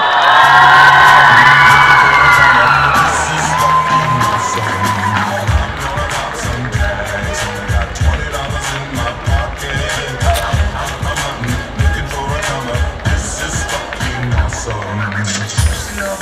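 Audience at a Gymnázium Trutnov class 4.A maturita graduation ball cheering and clapping, loud crowd whoops at first settling into steady applause with shouts mixed in.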